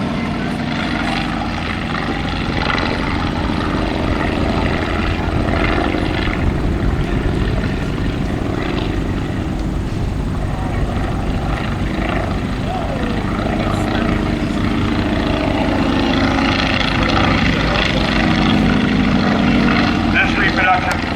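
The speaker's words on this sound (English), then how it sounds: "Very tight turning radius the triplane has." A Sopwith Triplane, a biplane-era aircraft built in Florida in the late 1980s, drones loudly overhead during a dogfight display, its engine a continuous rough roar that swells toward the end.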